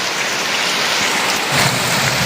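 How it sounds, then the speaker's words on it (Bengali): Heavy rain pours down in a steady, dense hiss that fills the whole clip, loud and continuous, with no voices. "এই দেখো বৃষ্টিটা কীরকম হচ্ছে দেখো"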